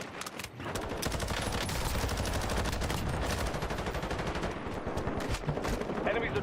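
Rapid automatic gunfire from Call of Duty: Modern Warfare beta, a dense continuous rattle of close, loud shots running nearly unbroken, with a faint voice briefly underneath.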